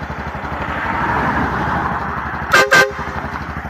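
Two short, loud car horn honks in quick succession from a louder aftermarket horn, standing out over a steady engine rumble and background traffic noise.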